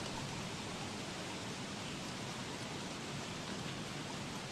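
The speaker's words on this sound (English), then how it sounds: "And it's raining really freaking hard." Heavy rain in the video game Don't Starve: Shipwrecked pours down in a dense, unbroken roar of broadband noise, steady and even throughout with no voices.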